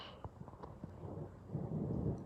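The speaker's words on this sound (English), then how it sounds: "it's gonna thunder out, so I'm sorry, it's gonna be super duper loud" A low, rumbling roll of distant thunder swells gradually and lingers, with faint patter of rain in the background.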